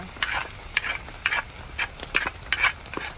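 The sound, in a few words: onions frying in a pan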